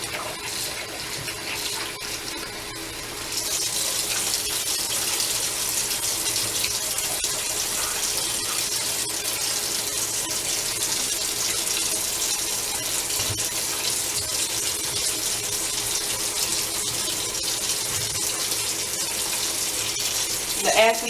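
Hot water runs steadily from a kitchen tap into a sink while seafood is washed and scrubbed, a continuous close hiss and splash that starts after a short quieter moment and carries on alone.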